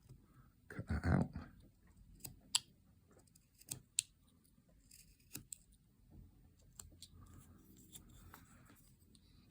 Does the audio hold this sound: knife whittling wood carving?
yes